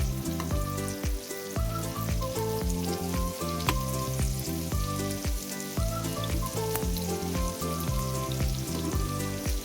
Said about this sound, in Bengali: পেঁয়াজটা আগে ভালো করে ভাজা হয়ে যায়